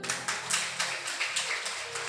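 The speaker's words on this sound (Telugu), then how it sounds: "చప్పట్లు కొడదామా?" A group of people clap in a steady, quick rhythm at a church sermon, several sharp claps each second, moderately loud and fairly close with no talking over them.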